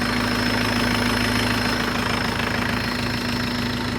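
A Jinma 404 tractor engine drones loudly and steadily up close in second gear while cultivating a field, a constant heavy rumble with a fixed low hum and no pauses.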